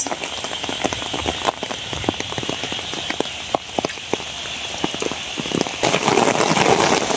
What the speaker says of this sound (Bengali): আবার বৃষ্টি আইতেছে প্রচুর স্পিডে